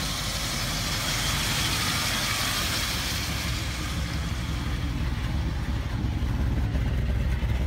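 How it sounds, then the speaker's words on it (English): A freshly tuned stock engine in a 1962 Ford Galaxie Sunliner idles steadily nearby, a continuous low rumble with an even, slightly rough pulse and no talking. "Good old stock engine."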